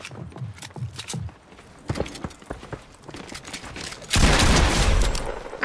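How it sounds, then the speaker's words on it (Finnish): Gunfire in the video game Fortnite: scattered sharp shots early on, then a dense, loud burst of rapid fire from about the middle to the end, with no talk. "Mistä mua ammutaan?"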